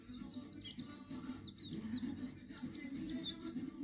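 Small baby birds chirp in quick, high, repeated tweets over a steady low background murmur, and the calls keep coming in clusters throughout.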